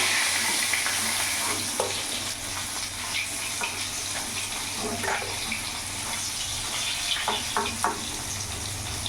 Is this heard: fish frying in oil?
yes